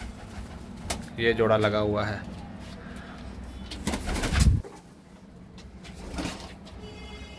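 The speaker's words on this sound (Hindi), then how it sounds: "बड़े प्यारे कबूतर है आउट क्लास।" Kasuri pigeons coo softly in short bursts, with low throaty calls close by, while someone talks over them.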